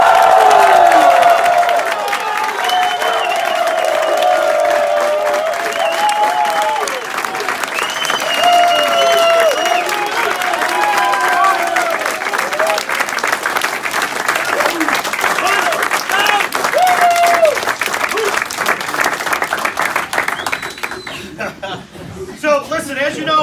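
A crowd cheers and applauds loudly and steadily, with whoops and scattered laughter over the continuous clapping, fading slightly near the end.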